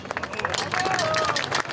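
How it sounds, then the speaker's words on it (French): Rally crowd clapping and applauding, with dense, sustained clapping and cheering voices filling the space and carrying loudly throughout. "Vous pouvez l'applaudir."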